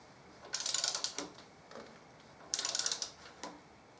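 A torque wrench clicks and ratchets as it tightens the axle nut on a Harley-Davidson Deuce trike conversion, in two close bursts of rapid clicking with a few single clicks between them, no talking.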